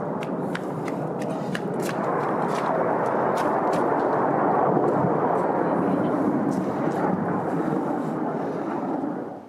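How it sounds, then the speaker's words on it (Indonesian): Iranian missiles exploding over Tel Aviv near a construction site in Or Yehuda, Israel: a loud, sustained rumbling roar with a few sharp crackling bursts at the start, rolling on as a continuous boom before fading at the end. "Rekaman video ini menunjukkan rekaman rudal yang meledak di dekat lokasi konstruksi di kota Or Yehuda, Israel."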